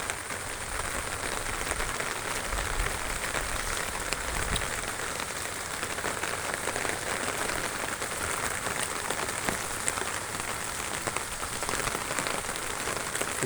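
Steady rain falling across an open field planted with melon, cucumber and bitter gourd vines, an even, close hiss of countless drops with no talking.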